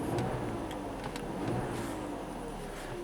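A car engine revs in a steady, fairly constant drone while testing a shift light, heard from inside the vehicle with faint ticking over the motor noise.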